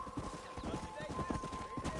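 Hoofbeats of a galloping horse in Red Dead Redemption, a steady clip-clop rhythm running the whole time with a faint whinny, under a voice and background dialogue.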